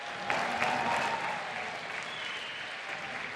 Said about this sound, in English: put your hands together and make some noise.